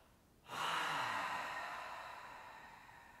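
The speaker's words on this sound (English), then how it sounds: "Take a deep, slow breath in. Deep breath out through the mouth." One deep, slow breath pushed out through the mouth during a relaxation exercise, a soft airy rush that rises suddenly and fades gradually over about three seconds, close and quiet with no talk.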